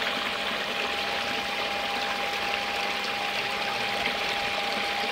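A 3,700 water pump runs steadily, feeding a Sluicy Gold GS10 highbanker. It makes a continuous rushing, splashing wash of flowing water with a faint constant hum underneath, loud and unbroken throughout.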